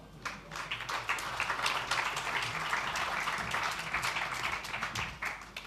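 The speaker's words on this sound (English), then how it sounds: "let's give my panel a round of applause" A conference panel audience gives a fairly faint, steady round of applause lasting several seconds in a large hall.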